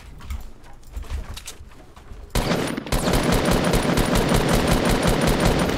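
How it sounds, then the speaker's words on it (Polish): Gunfire in a video game: a few scattered single shots, then a sustained, loud automatic burst of rapid, evenly spaced rounds filling the second half. "dlatego strzeliłem raz, bo myślałem, że seria pójdzie"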